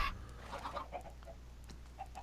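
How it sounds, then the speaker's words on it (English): A baby chicken in a Minecraft-style video game, giving a few faint, short clucking chirps spread across the moment over a low background hum. "And I get a single baby chicken"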